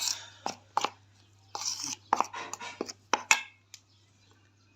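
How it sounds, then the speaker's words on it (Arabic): Flour and salt are stirred together in a bowl, giving a series of close, crisp clinks and scrapes from a utensil against the dish, irregular and separated by short quiet gaps. "هقلب كل المكونات الجافه دي كده مع بعض"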